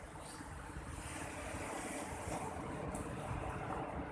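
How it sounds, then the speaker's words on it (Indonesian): Waves breaking steadily at Bantayan beach in Seunuddon, North Aceh, a littered shoreline, heard as a continuous broadband wash with gusty wind noise buffeting the microphone throughout, no voices. "Beginilah kondisi dari pantai Bantayan ini"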